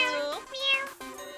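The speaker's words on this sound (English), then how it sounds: "meow." A cat meows once in the Your Turn To Die video game, a short, close, clear cry that rises and then falls, with no talking over it.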